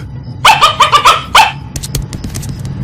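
A cartoon dog in an animated sitcom barks in a rapid, loud burst of five or six close yaps, followed by quieter scattered clicks and shuffling noises.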